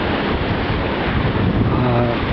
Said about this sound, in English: I did try and capture that wave, but I don't think I've done it, splashing over the top